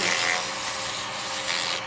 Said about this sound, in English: a little bit of sanding